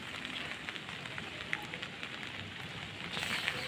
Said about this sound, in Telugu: వర్షం చాలా ఎక్కువైపోయింది.